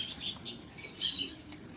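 Pigeons shifting about and flapping their wings in a loft or cage, soft fluttering bursts and scuffles close by, with no talk.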